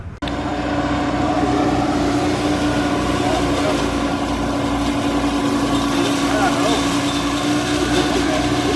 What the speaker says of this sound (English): Here's a bit of edge trimming Stonehurst style.